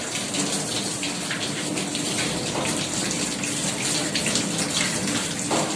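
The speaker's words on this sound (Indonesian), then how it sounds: "Ini kita siram, kita ada sensor di sini, kita siram." Water runs from a sensor tap over hands during a surgical scrub in a hospital operating unit, a steady splashing hiss with shifting spatter, close and alone.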